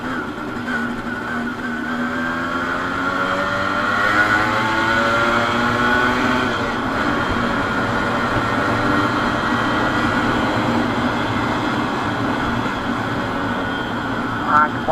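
A modified Yamaha RX100 motorcycle is revved loudly and up close, its exhaust note rising and falling in long sweeps with a rough, crackling edge for about fifteen seconds.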